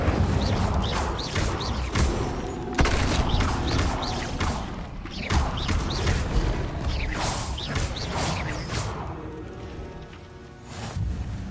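Fire spell effects cast repeatedly in the Hogwarts Legacy video game, alternating with other spell sounds: a busy run of whooshing bursts and crackling impacts over game music, fairly loud throughout with no speech.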